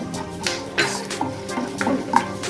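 Pepper and cumin seeds frying in a pan over medium flame, with light crackling and scattered clinks and scrapes of a utensil stirring against the pan.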